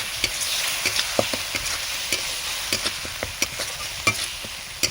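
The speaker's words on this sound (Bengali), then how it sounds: "এরপরে হলুদ গুঁড়ো দিয়ে দেবো, সামান্য লবণ দেবো। ভালো করে মশলাটাকে কষিয়ে নিতে হবে।" Turmeric powder, salt and spices sauté in a little hot oil for a rohu fish and potato curry, with a steady close sizzle broken by frequent sharp scrapes and taps of a stirring spatula against the pan. No one speaks.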